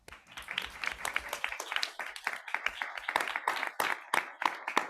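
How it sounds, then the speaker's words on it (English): A school board meeting room fills with a sustained round of moderately distant applause as students receive certificates. The clapping rises and falls in dense bursts, with no speech over it. "Applause while students receive certificates."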